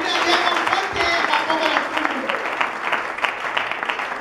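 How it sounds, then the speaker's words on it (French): A church congregation breaks into sustained applause, a dense, steady wash of many hands clapping together that fills the room, with voices calling out beneath it. "Acclame encore bien le Seigneur."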